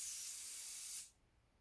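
Air rushes out of a motocross bike tire being let down to lower its pressure, a close, steady high hiss lasting about a second before cutting off into quiet.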